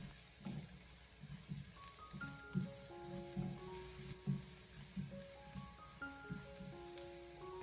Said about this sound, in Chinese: 先把它翻炒一下，先把这些小料煸炒出香味